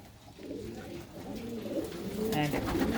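Several pigeons with blue-painted feathers coo in low, throaty burbling calls, nearby and rising toward the end, over a faint background hum.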